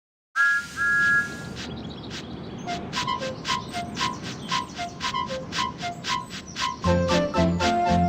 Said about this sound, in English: When your name's finished, pull my whistle.